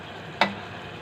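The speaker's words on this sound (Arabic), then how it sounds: "انزل عليها بشويه الشوربه كده" Broth poured onto sautéed tomatoes in a hot pan for a goose and molokhia dish, one sudden close hiss that quickly fades into a low simmer.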